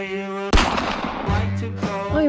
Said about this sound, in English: There's lots of gunfire going on around here.